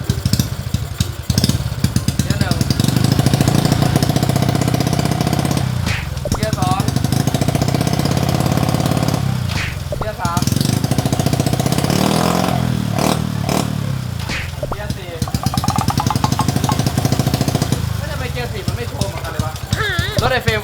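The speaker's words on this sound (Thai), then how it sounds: "เดี๋ยวเราจะมาลองเทสเกียร์กันดูนะครับ ว่ามันจะเข้าได้ไหมเกียร์หนึ่ง" A motorcycle fitted with an aftermarket exhaust runs loud and close, a harsh, rattling engine drone with sudden revving swells and dips as first gear is tried, and people talk over it.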